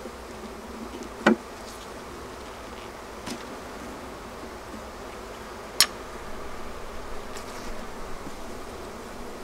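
Honeybees buzz in a continuous soft drone over an open spring beehive, broken by a couple of sharp knocks or clicks from handling the frames.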